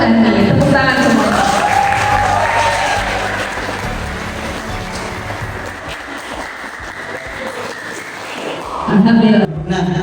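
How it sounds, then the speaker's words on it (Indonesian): A group of students claps at a school project closing event, a mixed patter of applause under voices in a room, rising briefly again near the end. "Tepuk tangan semua"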